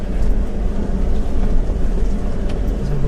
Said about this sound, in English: Good splash.